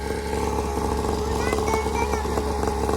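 A motocross motorcycle engine revs steadily and close by under a constant droning roar, with a person speaking over it now and then.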